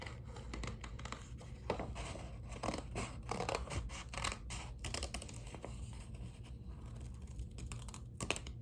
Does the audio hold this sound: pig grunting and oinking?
no